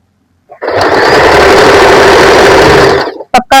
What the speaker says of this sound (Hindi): यहाँ से हम सिलाई को पक्का कर देंगे।